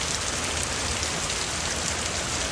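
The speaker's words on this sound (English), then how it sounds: "it's raining, raining, raining." Steady rain falls without a break, a dense, even hiss of drops on surfaces that holds at a constant level throughout.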